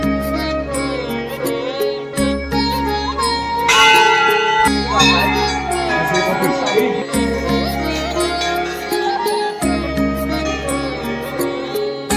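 Temple bells at Chitai Golu temple in Almora ring in clustered, shimmering metallic strikes over a steady low drone, with a denser burst of clanging around the middle; a faint voice murmurs in the background.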